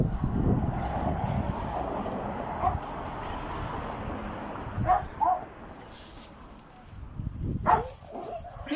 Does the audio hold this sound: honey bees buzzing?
no